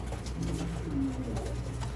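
A Ferozpuri pigeon coos close by, a soft low warbling call that rises briefly in the middle over a faint steady background hum, with no talking.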